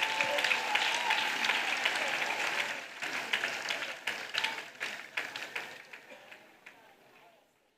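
A church congregation claps together, first as a dense, loud wash of many hands, then thinning into sharper, separate claps that fade to quiet over about eight seconds.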